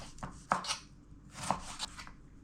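A knife slices through chayote on a cutting board, two sharp knocks about a second apart, each with a brief crisp cutting rasp, close and quiet.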